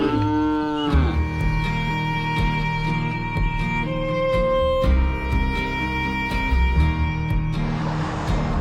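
Cows on a farm mooing in long, loud, drawn-out calls close by, one low moo following another over steady background noise.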